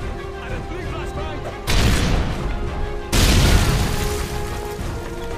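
Flashbang grenade detonations in Modern Warfare 3: two loud, sustained broadband bursts about a second and a half apart, each washing over the steady hum of the game's background noise.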